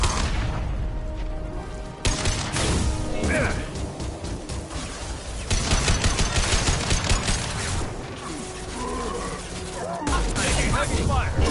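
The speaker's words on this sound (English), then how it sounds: "Heavy fire!" Heavy gunfire and crashing impacts rattle through a Battlestar Galactica video game battle, loud bursts with brief dips, mixed with booms and clattering effects; speech-like combat chatter sits within the noise.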